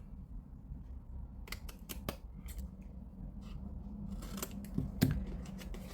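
Scissors cutting paper for an advent calendar star, a few crisp close snips in two small bursts over a low background hum.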